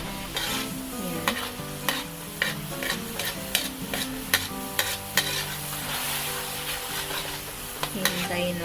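Squid adobo frying in leftover oil in a pan, a steady sizzle broken by repeated sharp scraping and stirring clicks of a utensil against the pan, with no talking.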